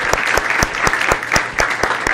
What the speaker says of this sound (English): if we could give him a nice warm round of applause during this visit